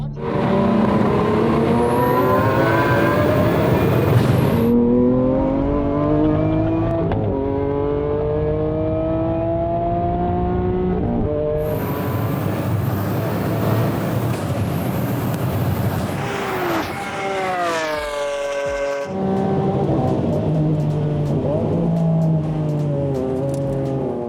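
A Golf and a Lamborghini accelerate hard from a rolling start on a wet airstrip, engines loud and close, revving up through repeated gear changes with sharp shift gaps and rising pitch.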